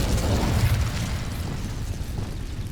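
In Hogwarts Legacy, the Incendio fire spell erupts as a dense, rumbling burst of flame that roars steadily for a few seconds, heavy in the low end, with no talking.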